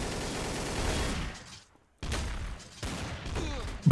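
Gunfire from a Trouble in Terrorist Town match: bursts of rapid shots, then a brief silence, then more firing with a loud spike at the very end.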